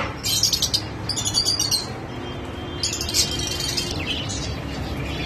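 Caged birds at an old Baghdad bird market chirp and twitter in bright, rapid bursts close by, clustered in several loud flurries over a low market background.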